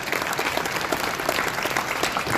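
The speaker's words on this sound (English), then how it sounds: "A big round of applause for Ace through Zoom." Sustained applause from an audience at a startup pitch event at Expo Real 2019, dense steady clapping throughout with no pauses, fairly close and loud.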